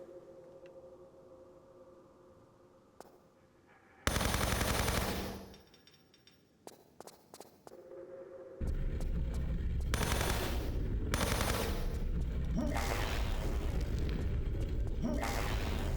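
Gunfire in Tomb Raider 3 Remastered: a loud automatic burst crackles, then scattered single shots follow before a long, dense stretch of sustained rapid fire with booming impacts fills the rest.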